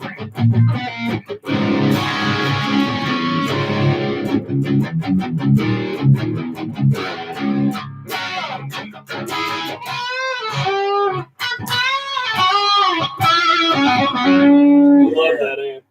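Electric guitar rings through an amp with reverb, strummed chords followed by sustained, bending single notes, loud and close with a wet, echoing tail.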